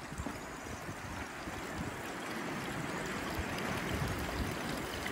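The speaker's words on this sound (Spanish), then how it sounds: "Pasa que ahora como no hay mucha agua, pues están solo los primeros caños saliendo agua." Water pours steadily from the first few spouts of a 35-spout public fountain in Torrelles de Foix, a continuous close splashing rush with no talk.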